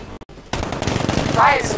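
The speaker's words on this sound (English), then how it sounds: "Riot suppressor. Okay, those bullets don't kill, probably." In Batman: Arkham Knight, the Batmobile's riot suppressor gun fires a rapid, loud burst of shots. After a brief gap, the rattle comes fast and dense and is layered with other game effects.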